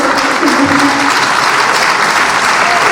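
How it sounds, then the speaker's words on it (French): Applause from the audience at the Miss Orléanais 2015 pageant as a candidate presents herself, loud and close, a continuous crowd clapping with a brief voice briefly heard over it. "Oui, on peut l'applaudir, ça va."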